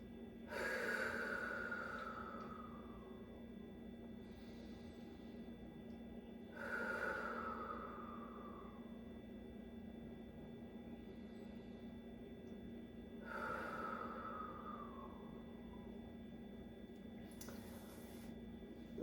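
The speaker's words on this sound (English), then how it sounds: "Nice full deep breaths." Deep breaths drawn during a floor stretching and recovery session for cyclists, three long breathy inhale-exhale swells spaced about six seconds apart, close and soft over a low steady hum.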